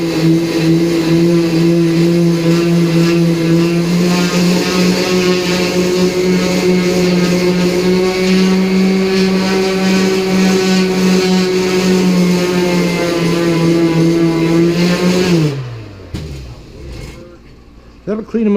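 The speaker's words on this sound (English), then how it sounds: "This is a 60 or an 80 grit. 60 or 80. Figures it wouldn't be numbered, but I go at it with a orbital." An orbital sander fitted with 60 or 80 grit sandpaper runs with a loud, steady humming whir for about fifteen seconds, then winds down to a stop, leaving near silence.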